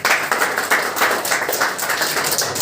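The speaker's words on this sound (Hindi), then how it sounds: "सब बच्चे नीचे से ताली" Schoolchildren clapping together as a group, a dense burst of brisk applause from many small hands, close and lively, with a little speech underneath.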